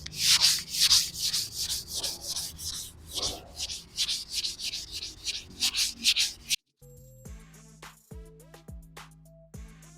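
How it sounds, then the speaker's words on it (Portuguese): A rounded vehicle step is sanded by hand with 320-grit sandpaper, giving close, steady rhythmic rubbing strokes for about six seconds before the sound cuts to a different, tonal passage. "o lixa 320 eu vou lixar com a mão mesmo, porque a peça é toda boleada"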